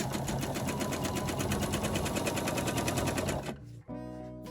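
A sewing machine stitches stretched quilt fabric in a fast, steady needle rhythm, loud and close, then stops abruptly near the end.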